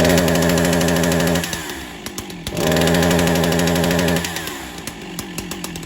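A Husqvarna 372XP chainsaw from 2007–2008 with a suspected failing ignition module sputters at idle, its rough engine note dropping and surging twice, close and loud, with no talk.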